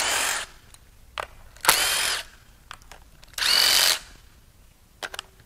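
Power tool whirring in short bursts while pulling the spark plugs from a Nissan SR20DET engine out of a Silvia, three longer runs mixed with brief blips and quiet gaps, close and loud.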